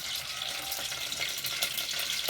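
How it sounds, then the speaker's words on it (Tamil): About six spoons of hot cooking oil in a pan for urundai kulambu crackle and spatter after water touches it, making a dense, continuous sizzle with sharp little pops close by. "அதில் தண்ணி பட்டுருச்சு போல், அது ஒரு மாதிரி வெடிக்குது பார்த்தீங்களா சவுண்டு."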